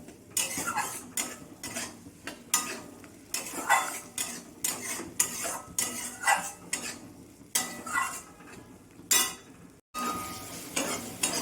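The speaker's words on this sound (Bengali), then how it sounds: "মশলাটা আমি একটু ভালো করে নাড়িয়ে চাড়িয়ে নেব" Spice paste for a ridge gourd and fish curry is stirred hard in a pan, rhythmic metal scrapes and clatters repeating over a faint sizzle, close and fairly loud.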